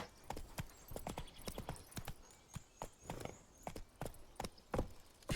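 Roach the horse trots in The Witcher 3 with a steady, rhythmic clip-clop of hooves, quiet and moderately close, and keeps an even pace throughout.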